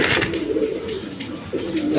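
Pigeons at a seller's stall coo in soft, low, repeated throaty calls, close by, with a continuous murmur of cooing across the whole stretch.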